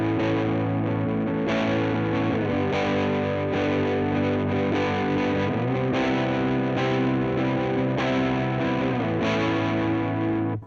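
An electric guitar plays chords through an EHX Green Russian Big Muff fuzz pedal, the sustained notes buzzing and saturated, with strums repeating at a steady rhythm.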